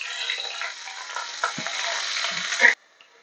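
Onions, mustard seeds and fenugreek sizzle hard in hot peanut oil, a dense close crackle with small pops that cuts off abruptly near the end.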